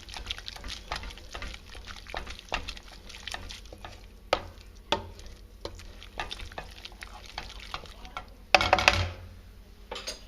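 Bolognese sauce stirred in a pot, with soft wet scraping and scattered clicks of a utensil against the pot over a low sizzle, close and steady with a few sharper knocks.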